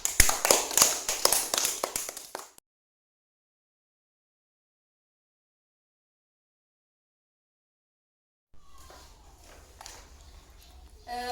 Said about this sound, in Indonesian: Oke, kita berikan aplaus dulu kepada kalian semua.